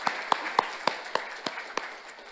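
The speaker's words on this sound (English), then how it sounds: "can we have like a round of applause for all these people that brought this together?" A small community session audience gives a round of applause, about nine sparse, evenly spaced hand claps, fairly quiet over a soft room background.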